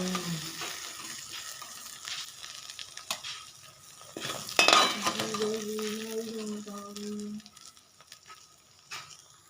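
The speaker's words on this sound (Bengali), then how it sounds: "সয়াবিনগুলো ঠিক একই রকমভাবে আমি ভেজে নিচ্ছি।" Soybean chunks frying in oil in a pan, with a quiet, steady sizzle broken by scraping and clinking stirs. A brief tonal hum passes midway.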